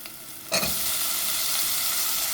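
Chopped ridge gourd hits a hot oiled pan with a sharp burst at first, then settles into a steady, close, loud sizzle of frying with no talking.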